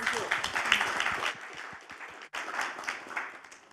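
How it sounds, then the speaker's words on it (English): Audience applause for speakers on a women's panel, dense clapping that dips briefly midway then resumes, fairly steady and moderately loud. "Big round of applause, one more time, please."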